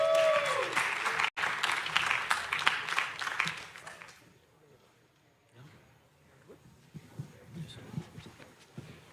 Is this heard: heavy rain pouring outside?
no